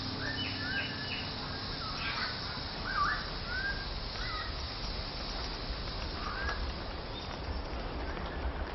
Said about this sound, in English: the palm cockatoo, the Victorian crown pigeon, and the rare and beautiful bird of paradise.